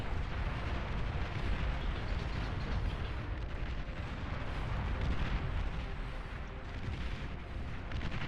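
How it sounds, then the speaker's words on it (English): In the strategy game Beyond All Reason, anti-air guns fire continuously as explosions boom, forming a dense, steady rumble of overlapping blasts and bursts at low volume. "Anti-air firing away."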